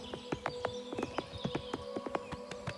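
Horse hooves clop steadily across a wooden bridge in the video game Oblivion Remaster, hollow knocks in an even walking rhythm, close and clear with faint birdsong behind.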